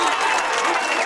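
Dense, sustained applause and cheering from the crowd at a Gaelic football match after a two-point score, a brief burst with a commentator talking over it.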